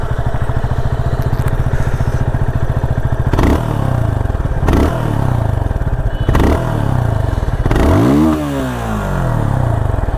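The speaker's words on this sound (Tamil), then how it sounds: "இதோடைய எக்ஸாஸ்ட் நோட்டு உங்களுக்கு காட்டுறேன்." A Yamaha FZ25 BS6 motorcycle idles with a rapid thumping exhaust, then is revved four times in sharp rising bursts that fall back to idle, loud and close with no voices.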